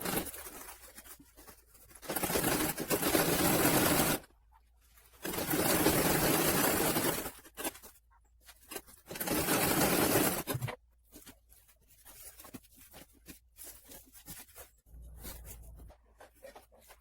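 A sewing machine stitches a fabric bag made from a blouse piece, running in three steady bursts of a few seconds each, separated by quieter handling noises of cloth and the machine.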